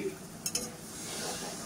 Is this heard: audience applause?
no